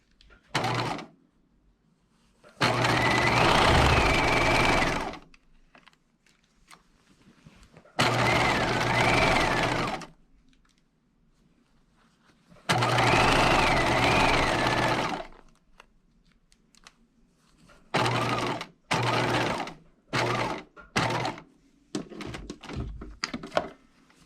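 Sewing machine stitching the side seams of a dress, running in several loud bursts of a few seconds each, with pauses between them and a string of short stop-start runs near the end.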